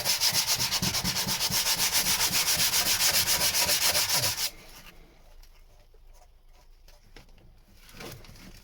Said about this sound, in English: that's pretty much all the sanding done